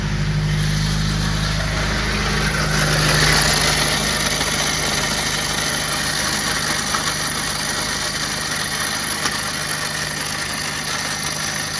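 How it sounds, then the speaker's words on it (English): A loose throwout bearing fork rattles steadily inside the clutch housing of a 2008 Subaru Outback. The close, continuous metallic chatter sits over a running engine with no voices. "that's the throwout bearing fork rattling around"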